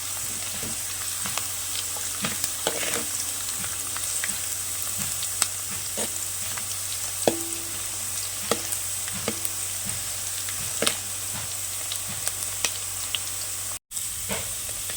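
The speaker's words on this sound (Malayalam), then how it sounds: "ഉള്ളി വാടാൻ വെച്ചിട്ടുണ്ട് കുറച്ച് ഉപ്പും കൂടി ഇട്ട് കൊടുത്തിട്ടുണ്ട്" Onions softening in hot oil with a little salt for chicken biryani, giving a constant close sizzle and hiss with scattered ticks and scrapes of stirring, no voices.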